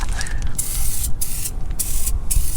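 PB Blaster Surface Shield aerosol sprayed onto rusting car parts such as a starter, heard up close as a series of sharp, loud hissing bursts, about four short sprays separated by brief pauses.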